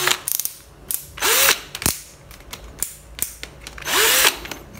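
An Ozito 18V three-function cordless drill set to hammer mode bores into a block of wood in several loud, close bursts, each whirring up and winding down, with a rattling hammer action and short pauses between runs.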